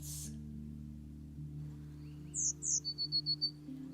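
Small birds calling with high, thin tsi-tsi notes followed by a quick rapid trill of short repeated chirps, fairly clear over a soft background hum.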